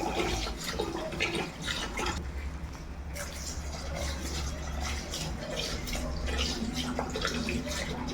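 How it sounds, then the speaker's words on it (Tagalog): Clean water splashes and swirls over uncooked rice in a cooking pot as the grains are rinsed, a close, continuous wet sloshing with brief gurgles throughout. "banlawan natin ng malinis na tubig ang bigas upang mawala ang dumi"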